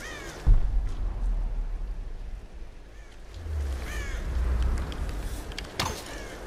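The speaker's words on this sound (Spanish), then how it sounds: "Venga, un cuervo fuera." Crow cawing in the Tomb Raider video game, several harsh caws spaced over a few seconds against a low rumbling outdoor ambience, with a thump and a louder rustling passage partway through.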